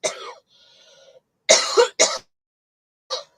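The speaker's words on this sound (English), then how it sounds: "just got the cough there" A person coughs and clears their throat in a few short, sharp bursts close by, separated by brief silences.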